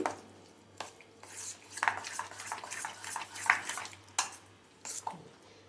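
Semolina batter for rava appe being mixed with lukewarm water in a bowl, giving close, irregular scraping and clinking strokes of a spoon against the vessel, with no talking.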